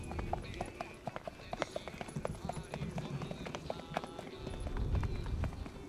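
Hooves of the Icelandic horse Ágúst frá Feti beat in a quick, even rhythm of sharp clip-clops on firm ground, steady and fairly close, with a voice talking over them.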